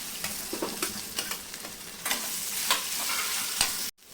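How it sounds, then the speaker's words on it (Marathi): Boiled, finely chopped potatoes sizzle steadily in a hot pan while a spatula stirs and scrapes in irregular strokes, close by, with no voices. "एखाद मिनिटभर मी बटाटे छान परतून घेतलेत"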